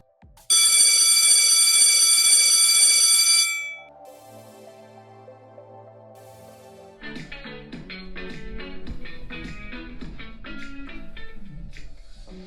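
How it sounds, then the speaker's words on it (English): School fire alarm test signal, a loud continuous electronic bell tone that lasts a few seconds and then stops, followed by softer chiming tones in a public address system. "The fire alarm test has now been completed."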